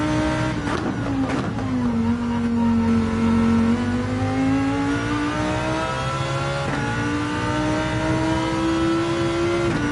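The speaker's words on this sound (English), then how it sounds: "then full throttle" A race car engine at full throttle in Gran Turismo 7 on the Interlagos circuit drones loud and steady, its pitch dipping briefly and then climbing smoothly through the rev range.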